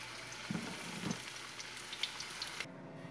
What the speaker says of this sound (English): So we're going to start laying in our beef, getting that cooked up crispy.